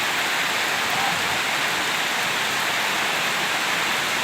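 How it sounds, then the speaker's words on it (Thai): Heavy rain pours down in a dense, steady hiss of drops striking surfaces, loud and constant throughout with no voices. "เพราะว่าฝนมันตกแรงมากนะคะนี่"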